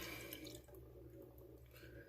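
Water poured off soaked seeds from a container, a steady liquid trickle and drip running throughout at low level with no voices.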